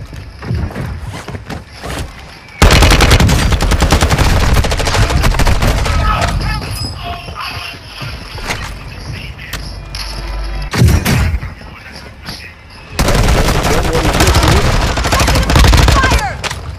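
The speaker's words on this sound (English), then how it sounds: "Our mortar strike is inbound." Mortar strike explosions and bursts of rapid gunfire in a video game, loud and dense in long sustained stretches broken by quieter gaps, with voices talking throughout.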